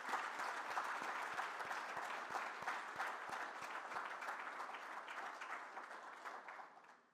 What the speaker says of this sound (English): one quick round of applause